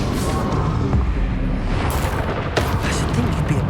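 Confringo fire spell explosions in the video game Hogwarts Legacy, heard as loud booming blasts and crackling bursts layered over dense battle noise, with a couple of sharp hits standing out.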